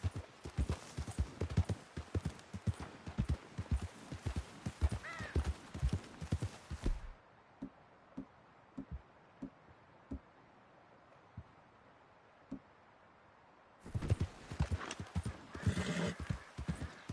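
Horse hooves from Red Dead Redemption 2 clop in a steady, close gallop rhythm, fade to a quieter stretch with scattered steps, then pick up loudly again with a brief whinny-like sound near the end.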